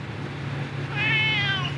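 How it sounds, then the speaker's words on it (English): A cat meows loudly and close by in the second half, a single drawn-out call over a steady low hum, the animal cooped up during a road trip to Arches near Moab. "If you ever hear the meowing in the background, that's why."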